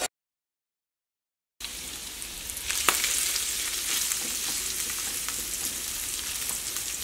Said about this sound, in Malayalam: നന്നായിട്ട് ചൂടായിട്ടുണ്ട്, ഈ നമ്മുടെ പനീർ ഇടാം കേട്ടോ.